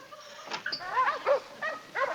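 A dog whimpers and gives short yelping barks in a series of rising, whining cries at close range, with no talk.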